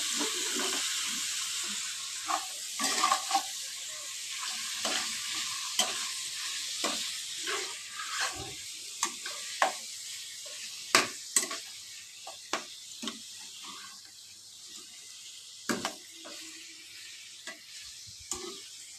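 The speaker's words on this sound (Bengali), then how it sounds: "তেল দিয়ে চর্বিগুলোকে জাস্ট নাড়াচাড়া করে নেবো" Mutton fat stirred in a little oil, frying with a steady soft sizzle while a spoon scrapes and clacks against the pan in irregular sharp knocks.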